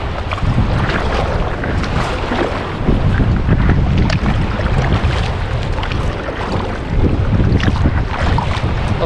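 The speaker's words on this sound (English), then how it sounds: "Maybe traveling sideways in the wind, but I'm doing it." Wind gusting over Sydney Harbour heard from an inflatable stand-up paddleboard, a loud, constant buffeting roar of wind noise against the microphone with water movement beneath.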